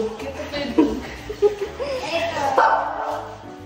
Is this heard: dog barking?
yes